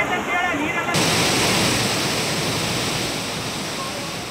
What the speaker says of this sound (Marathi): रेणुकादेवी मंदिर परिसरात ढगफुटी सदृश्य पाऊस बरसला.